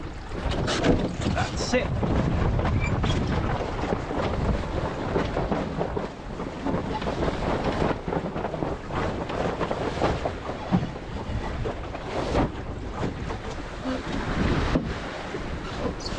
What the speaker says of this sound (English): I'm going to take the jib out early and we are going to gybe